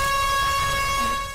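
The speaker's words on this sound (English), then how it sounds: "With the sound of the horn," A horn sounds at the start of a sailing regatta race on open water, a single sustained tonal blast held loud and steady before it tails off at the end.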